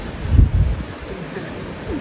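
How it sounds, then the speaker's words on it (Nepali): Wind gusts over a hilltop at night beside a broken-down vehicle on a jungle road in Taplejung, a low buffeting rumble that swells briefly early on, then settles into a steady, soft rush. "यो हावा चलिरहे मस्त चलिरहेछ"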